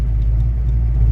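A 1982 Ford Mustang GT engine runs at cold idle, a steady, loud, low rumble heard up close for a brief moment with no voices.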